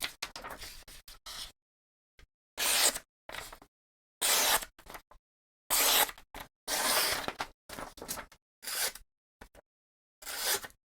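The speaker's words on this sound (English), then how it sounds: "Let's do some cutting tests," A Jack Wolf Low Drag Jack folding knife is put through cutting tests, making repeated short, crisp slicing and scraping strokes separated by silent gaps, close and fairly quiet, with no talking.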